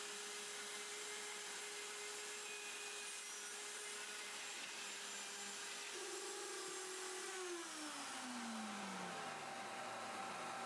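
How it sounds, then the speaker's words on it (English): Dust extractor vacuum running on woodworking tools in a shop, a steady broadband whooshing roar throughout with a tonal whine that shifts and slides downward near the end, no talking. "with a dust extractor it barely leaves anything behind"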